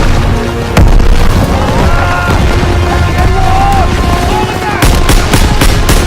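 Loud Call of Duty WWII battle sounds, with sustained gunfire and booming blasts throughout and a sharp grenade explosion near the end, while soldiers shout orders.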